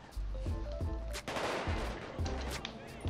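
Gunfire in GTA V during a gang war shootout, sounding as repeated sharp bursts and single shots with loud, punchy low-end thumps spread across the stretch, near and fairly dense.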